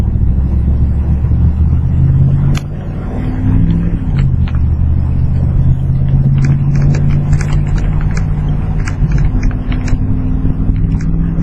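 Wood gas powered truck pulling away from a stoplight after idling, its engine a loud low rumble that dips briefly and then rises steadily as it accelerates, with wind buffeting the microphone.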